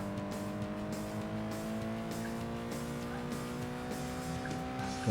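Cars racing in a PlayStation 2 game demo: a continuous droning engine whine with layered steady tones, holding at constant loudness throughout.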